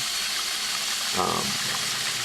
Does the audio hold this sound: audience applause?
no